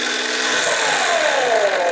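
A brushless motor built from Lego and run on a 9-volt battery spins up, turning a heavy flywheel; a whining tone rises steadily in pitch over two seconds, close and alone.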